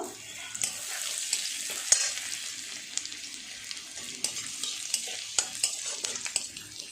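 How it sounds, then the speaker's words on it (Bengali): Chopped ginger and garlic are stirred in a hot pan, a moderate crackling sizzle with frequent light spatula scrapes and taps in an uneven rhythm, no talking. "আদা রসুনটা হালকা করে নেড়ে নেব"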